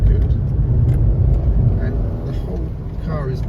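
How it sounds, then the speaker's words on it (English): Old automatic car engine in second gear, a loud continuous low rumble that rises and falls with throttle while someone talks over it. "you might hear the engine revs"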